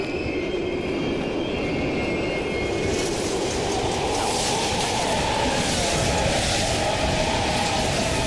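A train rolls through an abandoned station in Call of Duty Black Ops Cold War, a loud, steady rumble of wheels and rail noise that swells and brightens partway through and holds to the end, with no talk.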